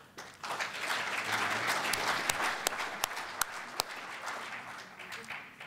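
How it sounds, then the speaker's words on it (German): Applause at an AfD party conference in Berlin swells into a steady crowd roar of clapping, with several sharp, louder individual claps punctuating the middle before it tapers off. "Applaus"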